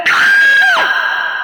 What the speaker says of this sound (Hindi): यहाँ बच्चा रो रहा है